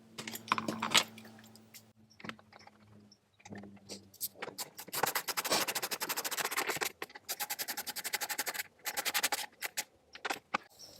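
Bolts going into a trim panel on a 2021-or-newer GMC Yukon, heard as rapid clicking and ratcheting taps in bursts with short pauses, close and fairly quiet, with no talking.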